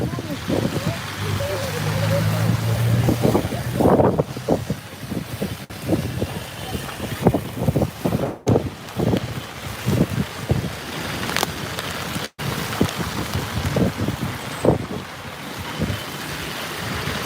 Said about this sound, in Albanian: Si që shikoni edhe nga çadrat, ka shumë erë